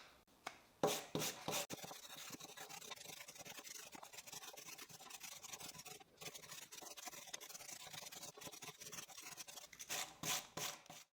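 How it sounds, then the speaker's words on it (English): Hand sanding wood with 80 grit sandpaper, a faint scratchy rasping of repeated strokes with a few louder scrapes, close and quiet with no voices. "I'll sand it by hand with 80 grit sandpaper."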